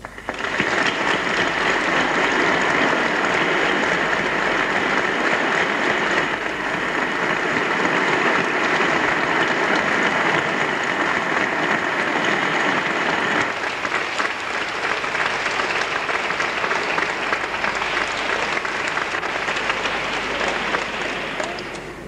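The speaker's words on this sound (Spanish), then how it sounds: "Recibámoslo con una digna ovación." A concert audience in Herrera, Sevilla gives sustained, dense applause for conductor Fulgencio Morón before a performance of his Nazarenos de Pasión. The clapping is loud and continuous and eases off slightly toward the end.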